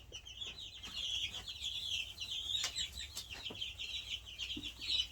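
Belgian d'Uccle chickens, a feather-footed bantam breed, cluck and chirp in a steady, overlapping stream of high calls close by, with no talking.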